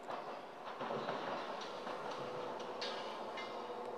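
A train arriving at a Japanese station rumbles steadily with faint rhythmic clacking of wheels on rails, heard from a moderate distance.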